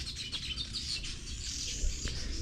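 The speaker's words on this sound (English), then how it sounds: "Yeah, you can hear the sound of birds." Birds chirp and tweet from a tree beside an unpaved rural road in Kenya. Their short, bright calls repeat steadily over a constant wash of heavy rain.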